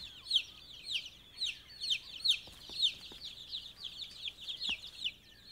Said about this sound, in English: Auntie Hen is minding chicks